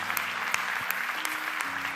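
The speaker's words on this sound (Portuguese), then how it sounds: "dando uma salva de palmas a vocês" A church congregation applauds in honour of the mothers present. The clapping is dense and steady from a full room, continuing throughout with no speech over it.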